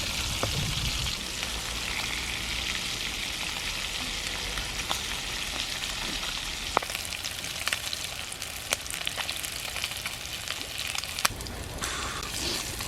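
Aral eel pieces frying in a pan, a steady close, dense sizzle running unbroken for the whole stretch, with sharp pops and crackles of spitting oil scattered through it and no voices.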